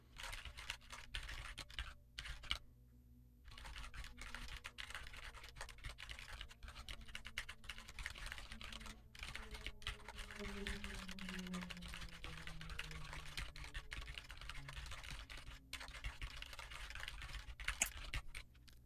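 Fingers tap out text on a computer keyboard, a quiet, continuous patter of close key clicks with occasional heavier strokes and short pauses.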